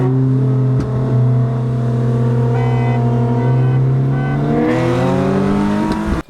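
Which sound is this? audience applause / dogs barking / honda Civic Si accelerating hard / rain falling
honda Civic Si accelerating hard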